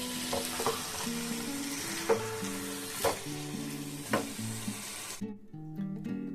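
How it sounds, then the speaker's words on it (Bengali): Potatoes and peas sauté with coriander-cumin powder in a pan, with a quiet continuous sizzle and a few sharp spoon scrapes at roughly one-second intervals. A soft tonal background runs underneath, and it cuts off near the end. "এবার এইগুলোকে কষিয়ে নেব খুব সুন্দরভাবে। একটু কষিয়ে নিতে হবে 5 মিনিট ধরে।"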